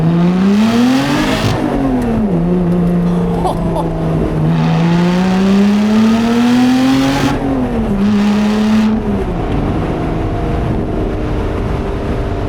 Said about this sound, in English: Let's give it a first gear pull.